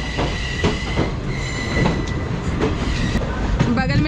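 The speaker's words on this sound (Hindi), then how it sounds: "खुल गई हमारी ट्रेन एग्जैक्ट राइट टाइम पर, खुली है हमारी ट्रेन पटना जंक्शन से" Passenger train pulling out of Patna Junction on the Rajgriha Express from Danapur toward Rajgir, heard from on board as loud, close wheel clatter and rhythmic rail clicks with steady rumble and a brief squeal near the end.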